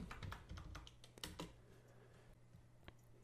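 Quick keystrokes on a computer keyboard type a short search word, a rapid cluster of clicks near the start that trails off into a faint hum with one last tap, quiet and close.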